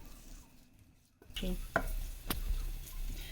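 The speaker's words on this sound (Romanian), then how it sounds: "Și le voi lăsa să se prăjească." Small pieces of bacon sizzle in a hot saucepan, starting after a quiet moment with a burst of frying crackle and a few sharp clicks and taps of a utensil against the pan.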